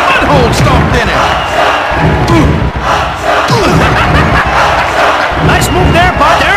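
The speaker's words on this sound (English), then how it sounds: "This crowd is going bananas." Crowd roars loudly in the WWF Attitude wrestling video game on Dreamcast, a sustained arena cheer with thuds of in-ring impacts, while a commentator talks over it.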